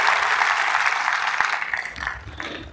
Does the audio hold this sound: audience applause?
yes